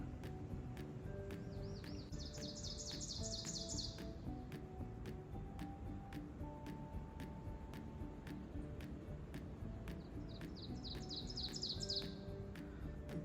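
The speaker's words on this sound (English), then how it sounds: "The birds are singing a song for me again today." Small birds sing along a forested stretch of the Appalachian Trail near a lake, with two bright trilling phrases rising above a steady wash of quieter chirps and ambient noise.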